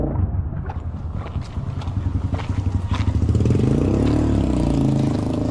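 A motorcycle passes close by on a street, its engine rising to a loud buzzing drone over a few seconds.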